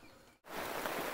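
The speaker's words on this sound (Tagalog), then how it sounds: "umuulan na" Rain falls outdoors in a steady, dense hiss, briefly dipping before swelling louder, heard during a sticky rice cooking session.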